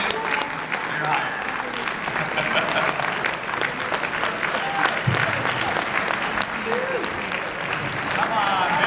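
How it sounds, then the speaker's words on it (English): An audience applauds at a business listing presentation, with steady clapping throughout and crowd chatter mixed in. "Come on, big applause."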